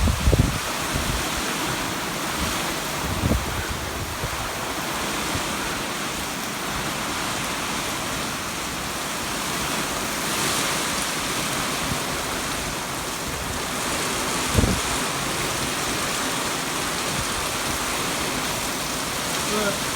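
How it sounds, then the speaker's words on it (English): Steady rain in a big pasture, a constant broad hiss of falling water with a few louder knocks and gusts mixed in, and no talking over it. "More of a steady rain now."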